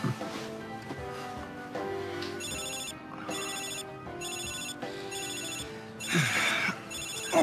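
A mobile phone ringtone plays in repeated bright, chiming bursts at a steady rhythm, fairly close and clear, with faint background sounds underneath.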